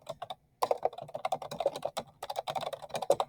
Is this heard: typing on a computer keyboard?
yes